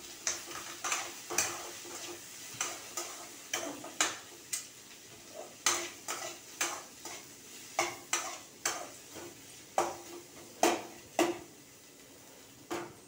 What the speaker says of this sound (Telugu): ఉల్లిపాయలు వేగుతున్నాయి కదా